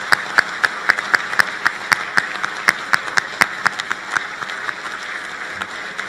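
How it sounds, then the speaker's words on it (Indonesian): Crowd applause at a handover ceremony, a lively burst of many hands clapping with a few sharp, regular claps standing out before it gradually thins toward the end. "marilah kita berikan tepuk tangan yang luar biasa sekali lagi"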